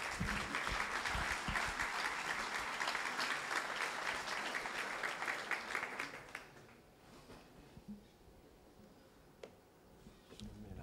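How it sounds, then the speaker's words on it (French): Audience applause at a business federation general assembly conference, dense and sustained for about six seconds before thinning into a few scattered claps and room noise. "Je vous demande d'applaudir Michel Maffezolic, s'il vous plaît."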